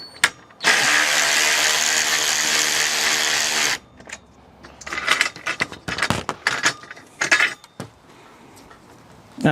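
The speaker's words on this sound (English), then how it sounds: "if Karen passes me my ratchet" A tool whirs loudly and steadily for about three seconds while work goes on at a Land Rover 300TDI chassis, then stops. Close metallic clicks, knocks and rattles follow in uneven bursts.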